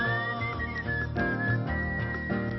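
A melodic whistled tune with sustained, wavering notes, steady and moderately loud, with no speech over it.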